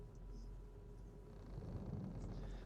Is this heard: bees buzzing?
no